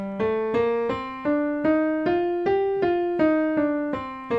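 G natural minor scale played one note at a time, roughly ten steady plucked tones rising and falling, close and clear, no voices.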